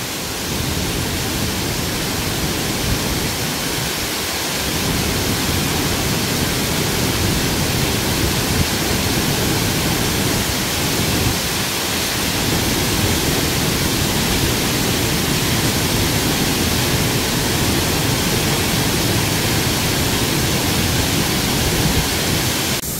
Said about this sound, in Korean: 높이 20m에서 떨어지는 폭포수의 모습입니다.